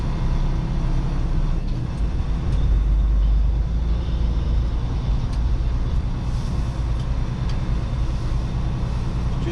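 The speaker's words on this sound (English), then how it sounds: "Just a truck." A truck rolls past on a road, with a loud, steady engine and tyre roar that swells slightly in the middle and fills the whole stretch without any talk.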